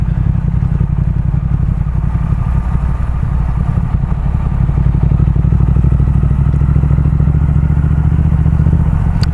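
A Triumph Speed Twin motorcycle engine burbles at a low idle, barely at tick over, with a steady loud throb and a rapid even pulse, close and alone.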